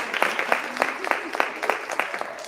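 Hand clapping on a live radio stream, a quick run of roughly a dozen sharp claps at a steady, slightly uneven rhythm, close and moderately loud with no talk over it.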